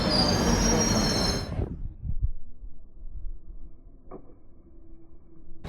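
A London Underground metro train's wheels squeal loudly and shrilly at first, then fade into a low rolling rumble of the carriages, with a brief metallic clank later.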